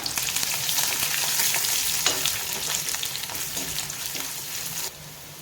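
Mustard seeds, dried chillies and curry leaves crackle and sizzle in hot oil with steady frying hiss and small popping bursts, close by, the sizzle dropping off near the end.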